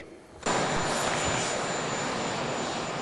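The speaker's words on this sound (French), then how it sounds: "L'avion transportant Donald Trump a atterri ce lundi matin peu avant 9h, heure locale, 8h GMT, à l'aéroport londonien de Stansted" Airliner carrying Donald Trump landing at London Stansted airport, a loud, steady broadband jet roar that surges in abruptly and holds close and continuous, with no talk.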